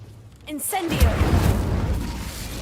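Incendio fire spell cast in Hogwarts Legacy, a whoosh building into a heavy rumbling burst of flame that roars and sustains for a couple of seconds before slowly fading, with a brief voice just before it.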